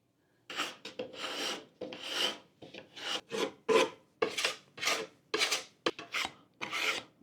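A rasp files and smooths a piece of wood in a long series of rhythmic rubbing strokes, close and fairly loud, with brief pauses between passes and no talking.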